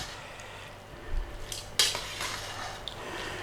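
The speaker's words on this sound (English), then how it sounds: "stir it round." Shrimp linguine gets stirred round in a pan, with a few soft scrapes and one sharper metallic clink against the pan over a quiet kitchen background.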